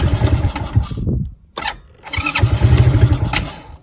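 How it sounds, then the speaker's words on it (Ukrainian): Forte ATV 125-L mini quad being started: a loud, close engine catches with a sputtering rattle, cuts out briefly, then fires again and settles into a rough, buzzing idle. "давайте заведу його і проїдуся"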